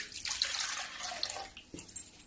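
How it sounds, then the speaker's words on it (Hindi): Water poured from a glass into a jar while cooking a beetroot kadhi, a close, steady trickling splash that trails off into a few drips near the end. "देखो ये 1 गिलास पानी है, 2 गिलास पानी है और 1 गिलास मैं ये जार में डाल दूंगी"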